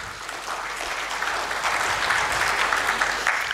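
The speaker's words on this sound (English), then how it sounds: "let's give him a big round of applause" Steady applause from a conference audience after a tech talk, a dense wash of clapping that holds for several seconds without pause.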